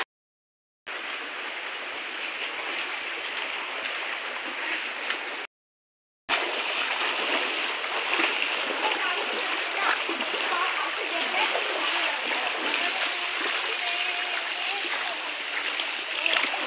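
Fresh water stream flowing through a deep forest in Arunachal Pradesh, a steady rushing and splashing, loud and close, broken by a brief gap of silence, with voices talking faintly beneath it.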